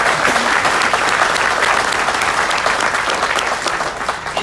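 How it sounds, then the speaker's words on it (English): A large audience at a Carson City Mint sesquicentennial speaker event claps steadily and loudly throughout, a thick, even wash of applause without pause. "if we could give him a round of applause"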